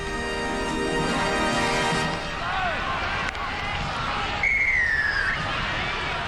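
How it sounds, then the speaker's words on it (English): A referee's whistle gives a sharp shrill blast over a loud, steady crowd roar at a 1984 South Sydney versus Parramatta rugby league match at Redfern Oval, with an earlier long tone partly buried in the noise. "Whistle blows"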